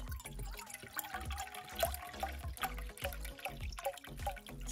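Liquid being poured into a measuring cup to cook lentils, a gurgling, splashing stream with uneven drips and glugs, close and fairly quiet, running without a break.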